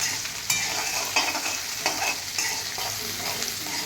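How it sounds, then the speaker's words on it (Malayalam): Okra, halved shallots and green chilies sauté in a pan, a bright continuous sizzle broken by repeated scraping stirs of a spoon every half second or so, close and without talk. "നല്ല രീതിയിലൊന്ന് വഴറ്റാം."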